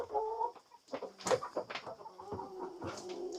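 Chickens cluck in a garden, a few soft, close, irregular clucks and short calls over quiet surroundings.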